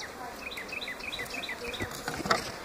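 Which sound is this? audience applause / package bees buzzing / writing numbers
package bees buzzing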